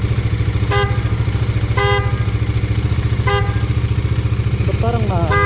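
An upgraded motorcycle horn honks in short, bright toots repeated several times over a loud, steady idling engine, with a voice speaking in between.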